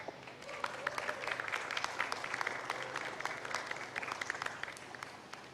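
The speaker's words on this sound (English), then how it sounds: "Please join me in giving them a warm round of applause." An audience at an economy task force summit session applauds, a dense even round of clapping that holds steady for several seconds at moderate distance.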